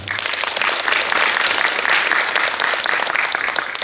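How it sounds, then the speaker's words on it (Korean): Audience at a policy forum on regional talent hiring in Gyeongsangbuk-do applauding, a dense, even burst of clapping that holds steady for nearly four seconds with no talk. "다시 한번 큰 박수 부탁드리겠습니다."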